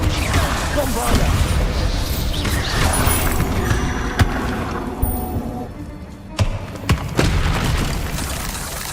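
Bombardo explosion spell blasts in Hogwarts Legacy combat against spiders, a dense roaring boom that fills the scene, with sharp bursts and cracks near the end.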